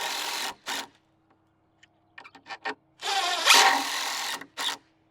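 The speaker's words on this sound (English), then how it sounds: "we'll get some screws and we'll screw it together" A power drill drives screws into a wooden half pipe skateboard ramp, loud whirring bursts that start and stop, separated by short quiet gaps and small clicks.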